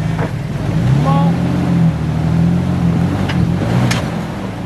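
Jeep engine droning and revving as it climbs a rocky off-road trail in Uwharrie National Park, a steady close low rumble with rising pitch in the middle, while people talk over it.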